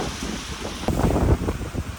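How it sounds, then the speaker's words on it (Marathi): A strong wind and rain storm in the early morning dark, heard in a brief burst of gusty roaring and buffeting that swells sharply partway through. "एवढं जास्त इथं वारं आणि पाऊस सुटलं आहे ना"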